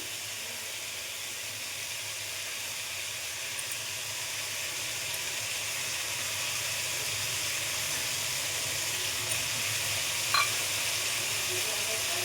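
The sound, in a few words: onion frying in oil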